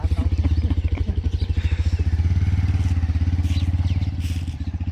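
A black motorcycle's engine runs steadily close by, a fast even putter with rhythmic pulses and faint clatter, heard alone.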